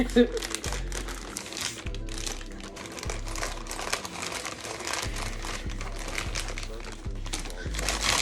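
Plastic packaging crinkles and crackles up close while a newly arrived book is unwrapped. The crackles come in repeated bursts and rustles, and a person talks over them.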